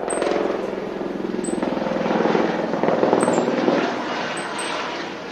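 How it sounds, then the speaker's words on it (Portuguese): A police helicopter's steady rotor chop and engine drone fill the scene during a search for suspects in Brazil, continuous and moderately loud, with faint high whistling tones recurring in the background. "O helicóptero Águia deu apoio."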